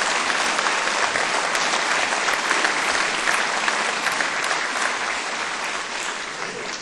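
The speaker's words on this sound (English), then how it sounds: "I think we should give our first responders a great round of applause for what they're doing for us today" A large audience gives a steady, loud round of applause for first responders at a state-of-the-state address, dense clapping sustained throughout and easing slightly toward the end.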